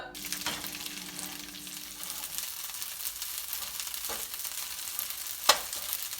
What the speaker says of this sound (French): Il nous reste juste à faire cuire ça dans une poêle huilée bien chaude.